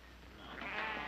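A sheep bleats once, a drawn-out wavering cry that swells in loudness toward the end, heard from middle distance against a low background hum in a Western TV drama.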